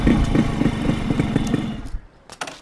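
A motorcycle rides off, its engine chugging and revving in a steady pulsing rhythm, fairly close, before fading away into quieter background sounds.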